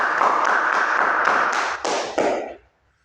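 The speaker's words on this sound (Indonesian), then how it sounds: "Tepuk tangan dulu untuk Desta." Classroom students clap together for a classmate, a brisk close burst of many hands slapping that holds steady for over two seconds, thins into a few final claps and stops abruptly into silence.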